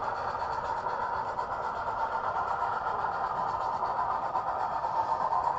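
Model train locomotives run steadily on a loft layout, giving a continuous, fairly quiet rolling hum and whir with no talk throughout.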